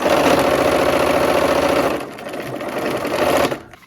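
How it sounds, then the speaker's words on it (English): A sewing machine back stitches pieced quilt units, humming loudly and close, easing briefly in the middle, then running again before cutting off. "I'm going to sew these together in 2s and do the same thing, back stitching on each end"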